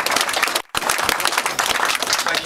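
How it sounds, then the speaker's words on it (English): A crowd at the opening ceremony of the Combined Military Services Museum in Maldon gives loud, dense applause that breaks off for a split second and then resumes at full strength. "please be upstanding and a huge applause"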